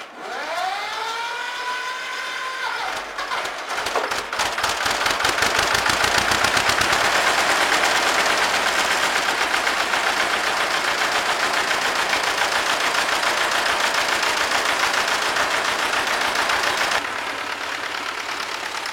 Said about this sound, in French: Ce vénérable tracteur semble vouloir coopérer